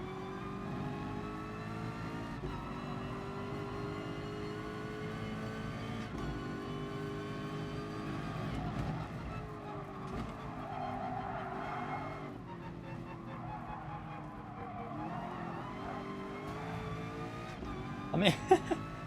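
Race cars in Gran Turismo Sport run a lap of a new track: a continuous, loud engine drone rises and falls through gear changes, with tire squeal near the end.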